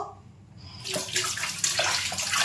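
Water from a kitchen tap runs while cut potatoes are washed, starting after a short quiet moment and continuing as a close, steady splashing gush.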